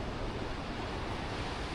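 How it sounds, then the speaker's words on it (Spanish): Ocean waves breaking on the shore at Baiona, Spain, a continuous loud washing roar of surf mixed with wind noise on the microphone. "aquí las olas ya están mucho más fuertes en esta parte"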